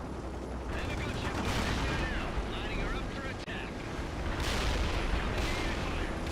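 Dense, continuous battlefield gunfire from World in Conflict, with rapid overlapping shots and distant booms rolling steadily throughout, loud and close, while faint voices come through underneath.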